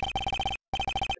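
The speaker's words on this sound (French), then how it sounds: "C'est téléphone." A telephone in the Phoenix Wright: Ace Attorney Justice For All video game rings in two bursts of rapid electronic trills separated by a short pause. The ringing is clear and close, with no voices over it.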